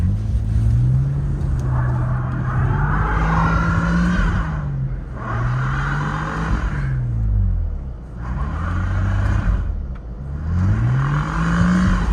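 BMW Z4 E85 with the N52B30 straight-six engine, drifting on a winter road, heard from inside the car as a near, loud engine that revs up and down in repeated swells and dips, with no talk.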